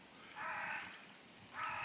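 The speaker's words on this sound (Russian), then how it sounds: "Ворона или ворон каркает?" Two hoarse caws from a crow or raven carry across an autumn pond, fairly faint and spaced about a second apart over quiet outdoor background.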